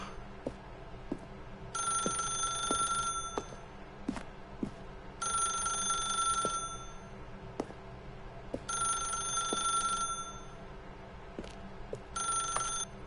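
An old-style telephone bell rings in The Stanley Parable video game, four bursts spaced a couple of seconds apart over a low room hum, with no talking.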